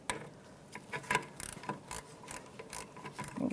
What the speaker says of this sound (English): Let's get my ratchet and we're going to tighten up this mount first.